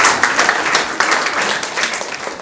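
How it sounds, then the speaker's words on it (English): An audience at a School of Commerce soft-skills training session gives a lively round of applause for visiting students, dense clapping with some louder bursts, tapering slightly toward the end. "give them a round of applause for coming here"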